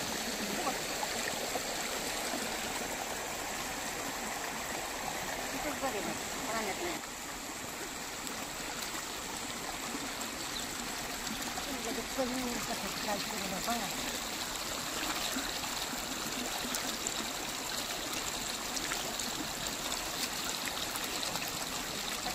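A water pump motor runs while water pours in a steady, continuous rush beside a vegetable plot, a constant broadband flow that stays fairly even throughout.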